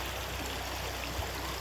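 Steady broadband rush of stream water flowing at the lower side of Liffey Falls, a continuous even wash with no breaks, moderately faint and heard alone.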